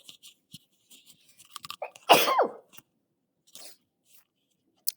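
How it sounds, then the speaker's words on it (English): A single sharp sneeze bursts out mid-clip, loud and close, surrounded by faint mouth noises and quiet shuffling. "I'm going to sneeze."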